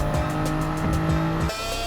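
A Gr.3 race car at the Tokyo Expressway in Gran Turismo 7, a loud engine drone with tyre squeal under braking, then a sharp shift in the engine note as the throttle changes.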